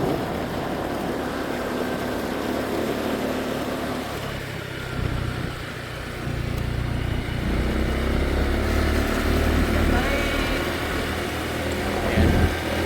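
A motorcycle carrying heavy riders at an eco park labors along, its engine droning and straining in a loud, rough, continuous rumble that swells and dips as it works.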